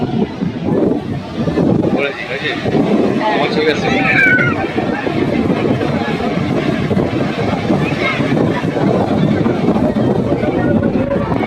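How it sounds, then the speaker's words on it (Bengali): Rough sea surf pounding a beach at Puri, a continuous roar of heavy crashing waves with gusty wind buffeting the microphone, steady and loud throughout. "আওয়াজটা শুনতে পাচ্ছ, হয়তো আমার কথা শোনা যাচ্ছে না ঢেউয়ের আওয়াজে"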